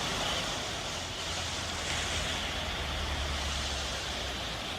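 Flood water of the Beas river in Himachal Pradesh during heavy monsoon rain, a steady, loud, broad roar of rushing water with a deep rumble underneath and no pauses.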